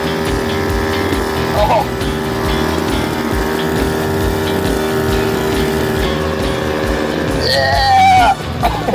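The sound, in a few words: homemade mini motorized scrap yard train at full throttle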